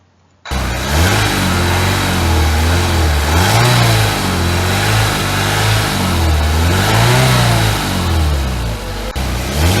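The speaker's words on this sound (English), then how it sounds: "here is the sound of Ford MIV 2018" A 2018 Ford MIV car engine, loud and close, running steadily with the revs swelling up and easing back down twice in smooth waves.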